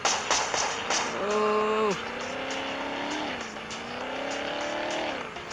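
A police car drives in a video game, its engine droning and rising in pitch as it accelerates, steady and close, with a brief tire screech at the start and a voice talking over it.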